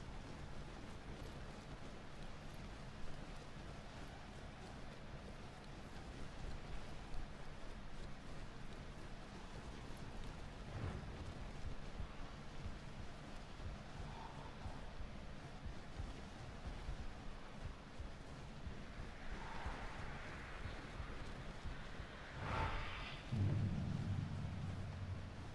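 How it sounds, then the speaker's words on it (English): Wind blows steadily through the Sniper: Ghost Warrior 3 video game as a storm approaches, a broad, rough rumble that continues throughout and is joined by low thunder-like swells and brief gusts near the end. "That's the wind blowing. Guess there's a storm coming."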